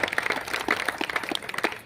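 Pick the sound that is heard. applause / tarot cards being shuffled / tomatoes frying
applause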